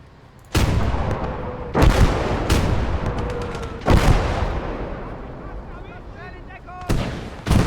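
Tank guns fire in the wargame Kampfgruppe: four loud booming shots spaced a couple of seconds apart, each trailing a long rumbling decay, with a faint voice in the background.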